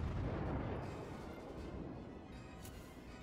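Naval artillery fire from warship guns in World of Warships, a rolling, booming broadband rumble that stays loud and sustained throughout with no talk over it.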